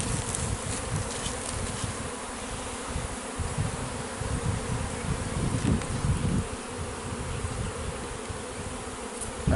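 Bees buzz steadily around a hive in Jamaica with the queen back inside, a dense, continuous droning swarm close by and fairly loud throughout, with no talk.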